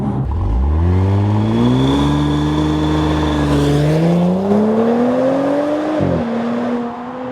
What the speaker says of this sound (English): the sound that we get from that sport exhaust is all natural